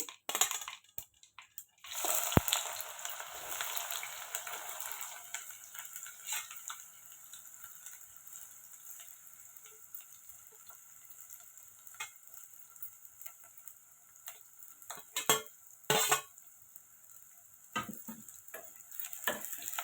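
Chopped onions frying with mustard seeds in a hot oiled pan: a steady broad sizzle that swells after they drop in, with occasional scraping stirs and sharp clicks of a spoon against the pan, no talking.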